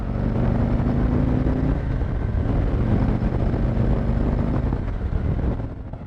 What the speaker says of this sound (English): the bike just seems a little bit quieter, not quieter, but smoother